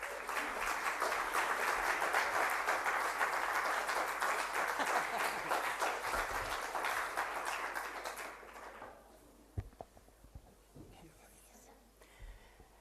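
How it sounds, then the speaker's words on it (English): A warm round of audience applause welcoming a speaker at an evening arts talk, dense clapping for about eight seconds before fading into a quiet room with a few scattered sounds. "A warm applause for Ulrike Kluge."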